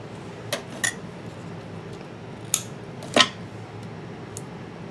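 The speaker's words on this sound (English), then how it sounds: "So I just kind of pull it back and snip me off a piece" Scissors snipping a small piece of paper for a papercraft flower-and-stem project: a few sharp, light metallic clicks spaced apart over a quiet background.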